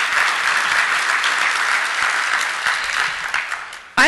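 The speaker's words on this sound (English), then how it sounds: "Again, another round of applause for them for this great session." A conference audience gives a round of applause for the panelists of a session on the business case for space; steady, even clapping that fades slightly before a voice cuts in at the very end.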